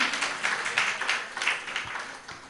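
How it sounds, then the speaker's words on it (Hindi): Clapping from an audience at a Jain religious discourse, a loose wave of handclaps with uneven bursts that sound moderately close and taper off over a couple of seconds. "आपने बिना कहे ताली बजा दी"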